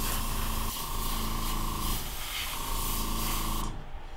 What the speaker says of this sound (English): First, I'm going to turn on my airbrush.